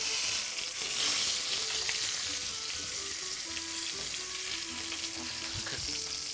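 Garnish sizzles steadily in a pan on low heat, a continuous bright frying hiss with faint crackles, heard close and alone without talk.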